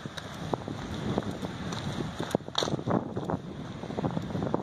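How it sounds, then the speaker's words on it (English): Steady wind buffeting the microphone, a rough continuous roar with gusty bursts throughout, no voices. "it is pretty windy"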